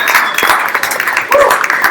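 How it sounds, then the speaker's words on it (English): A brief burst of audience clapping at a talk or presentation, fairly loud and close, with dense overlapping claps filling two seconds and no clear voice over it. "A round of applause for Angie's List dropping their paywall."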